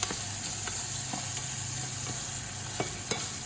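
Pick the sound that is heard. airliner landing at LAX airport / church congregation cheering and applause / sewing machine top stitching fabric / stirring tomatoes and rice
stirring tomatoes and rice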